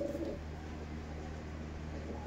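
Teddy pigeons in a loft make soft, low cooing over a steady hum of background noise, with one brief brighter call near the start.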